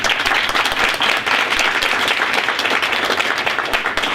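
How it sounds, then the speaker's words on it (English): A school board meeting audience gives a round of applause, loud, close and sustained clapping from many people with distinct hand slaps, lasting several seconds with no talk over it. "let's give her a round of applause."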